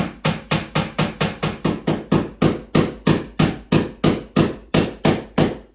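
A hammer drives a nail into a wooden wall stud with a steady run of about twenty sharp, evenly spaced strikes, loud and close with no talk.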